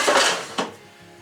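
Seasoned chips are tipped into an air fryer basket, a close clatter of metal and food against the pan followed by a second short rattle, then quiet.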